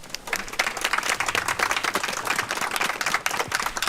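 At a memorial service, a gathered crowd claps for the parents of honored activists as they are introduced, a brisk, dense run of many hands clapping at moderate distance, continuous with sharp individual claps.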